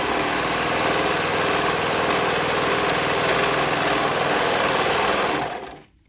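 A sewing machine stitches swimwear fabric for reversible swim bottoms, running loud and unbroken with a fast, even mechanical whir before stopping abruptly at the end.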